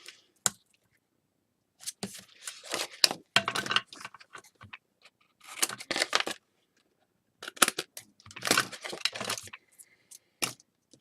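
Double-sided sticky tape being pulled and pressed down onto paper in short bursts of crackling and peeling, close and quiet, separated by silent pauses.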